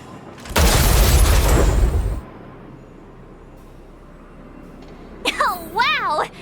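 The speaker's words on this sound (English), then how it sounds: "We wiped them all out in a single explosion!" A loud in-game explosion in Honkai Star Rail that wipes out a group of enemies: a heavy, roaring boom lasting about a second and a half, followed by a quiet stretch and then a short burst of warbling game effects.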